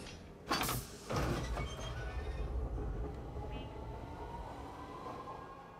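Train in the space game Star Citizen rolling past on its tracks, loud rumbling and screeching onset then a steady clattering roll that slowly fades, alone without talk.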